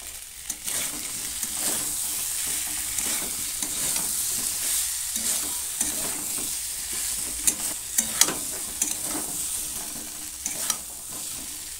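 Small new baby potatoes stir-fried in a pan for Bengali niramish dum aloo, a continuous sizzle with repeated spatula scrapes and stirring clacks, close and steady for several seconds, no voices.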